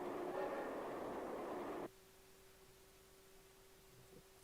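A train passes in the Lilo and Stitch video game, a loud rumbling rush that cuts off abruptly partway through, leaving a faint steady hum and a small click at the end.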